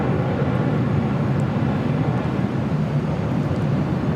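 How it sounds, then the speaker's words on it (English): An American Airlines A321 airliner arrives at LAX with a loud, steady low jet roar and rumble that holds evenly throughout, close and without a break. "Next arrival on the north side is American Airlines Flight 1632, coming in from Boston. It's an A321."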